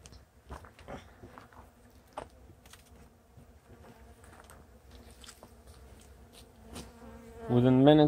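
A honeybee swarm in a flowerpot, with scattered faint buzzing and small knocks that swell into a louder, close, sustained hum at the very end.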